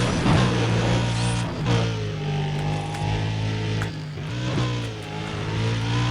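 Race car engines roaring in Need for Speed: Undercover as a Bugatti Veyron passes during a sprint, a loud sustained high rev with gear-shift dips and a steady engine drone.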